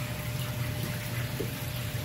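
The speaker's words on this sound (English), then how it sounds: "that's nasty well water." Well water pours in a steady, even stream, a constant close splashing hiss with no pauses and no talk.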